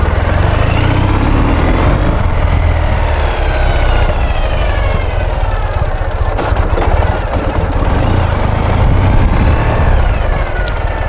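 A motorcycle fitted with a hydraulic steering damper accelerates. Its engine note climbs repeatedly in rising sweeps over a loud, constant rumble, close up, with wind noise and no talking.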